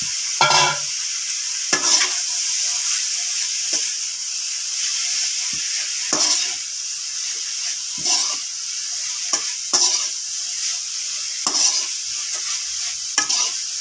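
Chicken spring roll stuffing of mashed boiled chicken sautéed in a pan, a steady loud sizzle with periodic scraping stirs of the spatula, no voices.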